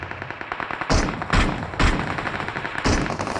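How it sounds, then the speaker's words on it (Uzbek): Video game gunfire in a multiplayer shooter: four loud, sharp shots at irregular intervals ring out over a steady background of ambient game noise. "Otishma ovozlarini eshitaman."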